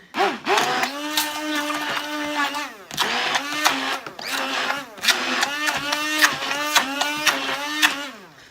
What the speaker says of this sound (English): just get your stick mixer, mix it up